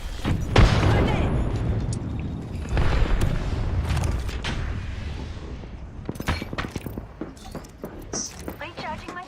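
Grenade explosions in a video game, two heavy booming blasts early on followed by rumbling debris and scattered gunfire-like cracks, with game voices talking throughout.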